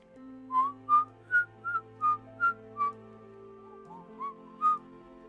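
Someone whistles the Nickelodeon theme song, a short, bouncy tune in clear separate notes over a soft steady background hum.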